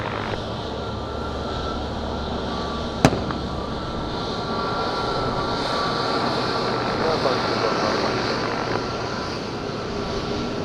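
An aircraft lands in strong wind at Madeira Island Airport, a broad, sustained engine roar heard from a distance, with one sharp bang early on.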